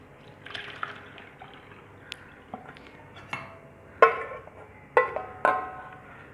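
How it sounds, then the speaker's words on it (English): Liquid poured from a pot into a colander lined with cotton cloth while making Bengali rasgulla, giving soft trickling and dripping with a few sharper splashy bursts close by toward the end. "we have to take one colander like this, and over that we have to put one cotton cloth, and now I am pouring this"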